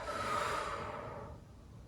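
One long, deep exhale during a yoga session, close and breathy, strongest at the start and then tapering off softly with no talking.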